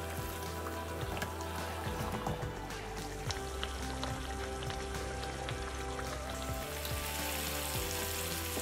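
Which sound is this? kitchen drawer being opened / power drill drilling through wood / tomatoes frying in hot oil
tomatoes frying in hot oil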